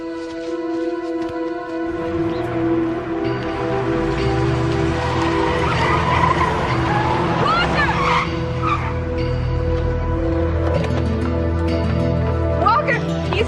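A car skids with squealing tires and then revs as it drives off, loud and close, set against a tense dramatic 1990s TV movie score, with no dialogue.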